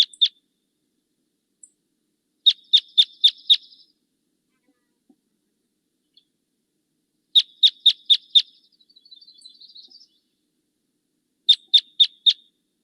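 Lower-pitched type 2 finch calls, large-billed, ring out in three separate bursts of four or five sharp, evenly spaced chirps. Soft chatter follows the middle burst, and a few isolated clicks fall between bursts against a quiet background.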